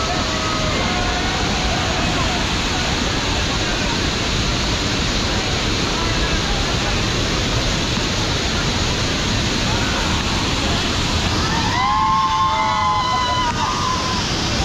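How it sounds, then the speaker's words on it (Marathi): Broadband rushing roar of the Savdav waterfall, a cold-water falls crowded with bathers, steady and loud throughout, with faint crowd babble and a brief whistle-like tone near the end. "तर ह्यो बघा सावडाव धबधबो."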